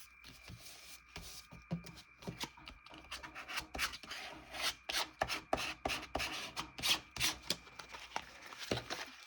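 Hand rubbing over a receipt collage, smoothing wrinkled paper scraps flat; repeated close, soft rasping strokes in an uneven rhythm, with no voices.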